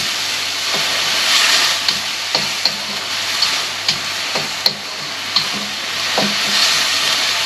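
Vegetables sizzling and frying in a pan for Filipino pancit, a steady close hiss with a series of sharp clicks and taps from stirring utensils spaced through the clip.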